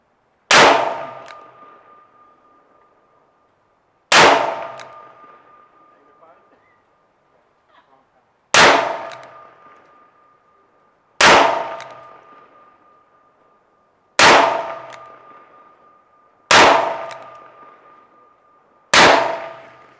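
Seven sharp gunshots ring out during target practice, spaced a few seconds apart, each a loud close crack followed by a metallic ringing decay that fades before the next shot.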